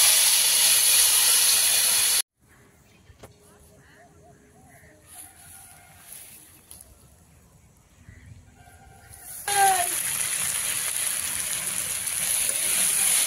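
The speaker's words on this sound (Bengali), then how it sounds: "আর কষানোর জন্য একটু জল দিচ্ছি" A loud hissing sizzle of papaya and potato curry cuts off abruptly, leaving a quiet stretch with faint sounds, then erupts again into a strong steamy hiss as water hits the hot oil.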